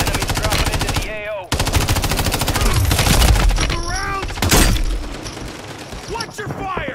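Rapid automatic gunfire in the Warzone video game, dense continuous bursts loud and close, with a brief gap, overlapping shouted in-game voices and sharper blasts.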